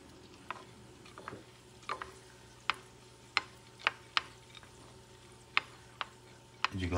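Pearl couscous being stirred with a little extra virgin olive oil in an antique cast iron pan, giving a series of sharp scraping clicks and taps spaced irregularly over a soft sizzle, close and fairly quiet.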